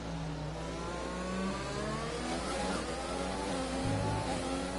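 Several F1 race cars in a racing video game, high-pitched engines whining and shifting pitch together in a steady, continuous roar as they run close together.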